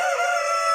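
A rooster crows in a backyard flock of Brahma chickens, a loud sustained ringing call heard close and alone for under a second.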